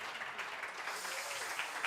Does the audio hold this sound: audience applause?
yes